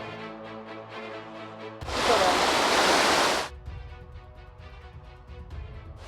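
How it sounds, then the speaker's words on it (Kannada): Floodwater roars through streams after heavy rain in Karnataka, heard as a loud, broad rushing surge lasting under two seconds, with music playing before and after it. "ಹಳ್ಳಗಳ ಬೋರ್ಗರಿತ ಶಾಲೆ ಮನೆಯಂಗಳದಲ್ಲೂ ನೀರಿನ ಆರ್ಭಟ"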